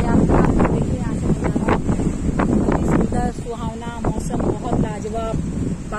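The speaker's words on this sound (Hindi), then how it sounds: "हवा चल रही है" Strong wind buffets the microphone at an outdoor Dattatreya temple in Nalasopara West, surrounded by trees under a cloudy sky. The rumble is loud and constant, and a voice talks over it throughout.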